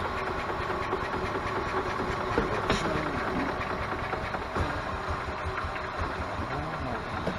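Kawasaki FE290 engine on a gas Club Car golf cart that won't run, cranking with a steady, close mechanical churning and knocking drone throughout, without catching into a clear run.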